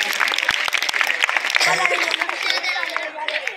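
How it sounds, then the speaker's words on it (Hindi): Audience clapping at a Republic Day prize distribution event for children, a dense steady round of applause with scattered sharp claps, heard alongside a speaker's voice and crowd chatter. "जोरदार तालियों से इनकी हौसला अफजाई कीजिए"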